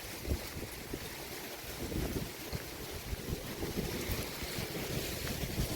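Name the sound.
strong wind blowing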